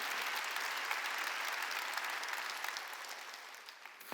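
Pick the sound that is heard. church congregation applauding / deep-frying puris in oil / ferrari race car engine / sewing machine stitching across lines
church congregation applauding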